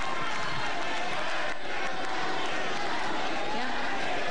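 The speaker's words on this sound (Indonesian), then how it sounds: "Boleh sekarang tepuk tangan, mari." Audience at a 2019 Indonesian vice-presidential debate applauds together, a dense, steady wash of clapping and crowd noise at moderate loudness that runs without a break for several seconds.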